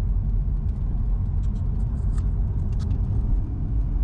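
A Porsche Boxster 981 driving, heard as a loud, steady low engine and road rumble from inside the car with a few faint clicks over it.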